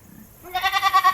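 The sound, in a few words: person imitating goat bleat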